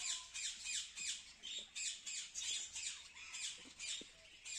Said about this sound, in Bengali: আর এই যে এটার ভিতরে ম্যাকাও